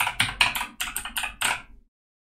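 Rapid typing on a computer keyboard, close and crisp, with about ten quick key strikes in an uneven rhythm, heard alone before stopping into silence.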